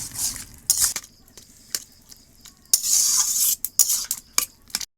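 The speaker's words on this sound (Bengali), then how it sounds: "এবার ভালো করে গুটে কেটে লাউটা আমি কাদা কাদা করে ফেলাবো।" Bottle gourd is mashed in a pan, with close, irregular bursts of a utensil scraping and pressing against the metal, broken by short pauses and faint clinks.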